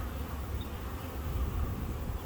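Honey bees buzz around a hive being moved to a new home, a steady low droning hum from many insects close by, continuous and even without pauses.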